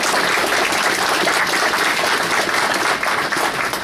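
Dense, steady applause from an outdoor ceremony crowd at the Welland Canal opening, honouring the St. Catherine's Collegiate jazz band, rolling on loud and unbroken throughout.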